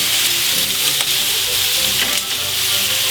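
Bacon fries on a hot pan set for a double burger, a loud, dense, continuous crackling sizzle filling the whole moment, with faint clinks and no speech.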